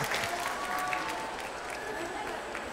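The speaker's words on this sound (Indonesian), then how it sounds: "Tepuk tangan dulu dong" Steady audience applause fills a Indonesian talk show studio, a dense continuous wash of clapping at moderate level with faint voices threading through underneath.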